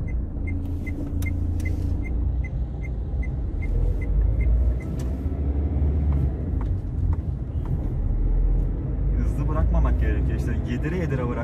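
A Renault Symbol car driving on a rough road, with a steady engine rumble and road noise throughout as the clutch is released quickly; the engine note rises near the end, and a repeating beep sounds early on.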